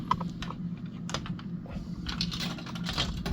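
A quarter drops into the coin acceptor of an Arcade1up Pac-Man XL cabinet, giving brief close clicks and rattles over a steady low hum.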